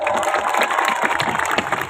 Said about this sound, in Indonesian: Tepuk tangan untuk para pemuda.